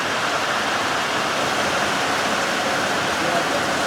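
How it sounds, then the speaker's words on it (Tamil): Water poured into bonda batter makes a dense, steady rushing splash that runs loud and unbroken from start to end. "சும்மா தண்ணி சேர்த்துக்கலாம்."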